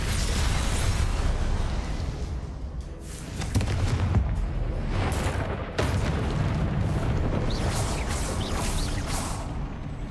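A Confringo spell blasts in Hogwarts Legacy, a loud, rumbling fiery burst that swells again partway through and lingers as a continuous roar.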